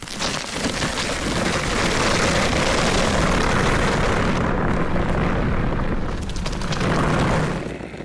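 A hub-drive electric all-terrain board rolls over sand and rocks, producing a loud, continuous gritty rumble and crunching roar with wind buffeting throughout.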